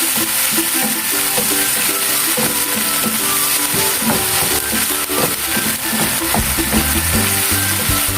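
Meat and soft tomatoes sizzle and fry steadily in a pan as bagoong goes in for pinakbet, with scraping stirring clatter close by throughout.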